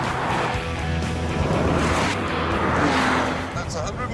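A Lotus Evora engine under hard acceleration on a runway, a loud continuous rumble with a shifting pitch and some rushing wind noise, with someone talking over it.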